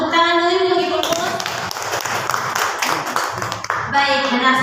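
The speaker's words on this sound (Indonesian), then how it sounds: "Tepuk tangan dulu untuk Ibu Rumus." Applause for a presenter at a teachers' module dissemination session, a burst of clapping from a small group lasting a few seconds between stretches of talk, with a voice speaking at either end.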